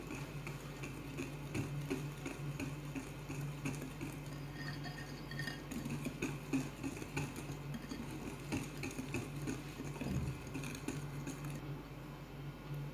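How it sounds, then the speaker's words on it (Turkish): Cookie batter for soft, cocoa crackle cookies being whisked in a bowl after a small glass of vegetable oil is added, a steady close whirring with scattered clinks and scraping throughout, no talking. "ve 1 çay bardağı sıvı yağ ekliyorum. Tekrar iyice özdeşene kadar çırpıyorum."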